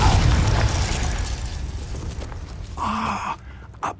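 A Confringo blasting spell goes off in Hogwarts Legacy, a loud booming burst that rumbles and fades over a few seconds, followed by a short exhaled voice sound.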